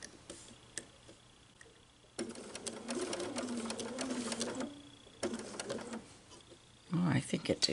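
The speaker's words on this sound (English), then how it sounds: "I'm just going to very slowly stitch up to that point" A sewing machine stitches slowly through a quilted Makower festive advent calendar panel, running in two close, steady bursts separated by a brief pause, with light handling noises around them.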